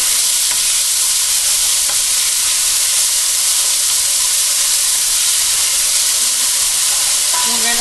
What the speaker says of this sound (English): I'm going to throw in my onion and my green peppers, my chili. I'm going to brown these up.